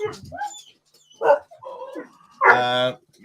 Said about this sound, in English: now the dog's going to be loud a little bit